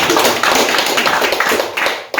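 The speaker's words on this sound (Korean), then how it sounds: "박수 한번 부탁드리겠습니다" A crowd at a Korean church pilgrimage site applauds, with dense, close, continuous clapping for about two seconds before it drops off abruptly.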